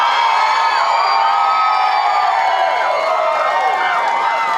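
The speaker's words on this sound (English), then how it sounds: "Can we get a huge round of applause?" A crowd at a tribute night cheering and shouting together, a dense, loud, sustained roar of voices and whoops without a break.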